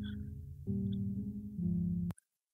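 Chill music loop from the Scratch sound library, slowed down, with low sustained synth chords shifting a few times under faint higher blips, ending with a sudden stop and a sharp click.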